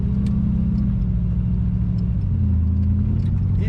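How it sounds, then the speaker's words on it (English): Exhaust of a 1960 Pontiac Bonneville convertible with automatic transmission, a loud, steady deep burble and low rumble at idle, with a slight swell in pitch near the end and no talk over it. "A lovely exhaust note from this car. Nice low rumble."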